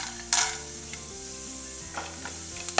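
Urad dal and chana dal roast in hot oil with popped mustard seeds, a steady close sizzle punctuated by a few scraping stirs over a low sustained hum.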